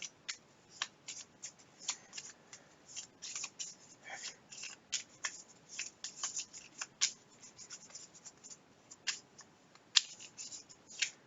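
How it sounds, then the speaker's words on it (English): Deck of cards for the Kingdom Death Monster board game shuffled by hand, with a steady run of crisp riffling bursts and flicks, close and quiet, with no talk. "Mainly like to do this first shuffle, just to get the stuff mixed up."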